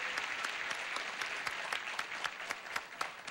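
Steady, full applause from a television game show studio audience, dense clapping sustained throughout at an even level with scattered sharper claps, no talk over it.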